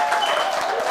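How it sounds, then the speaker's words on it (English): Brief burst of audience applause for a panel discussion, dense and steady clapping from a crowd with no pauses. "one big round of applause for our panelists"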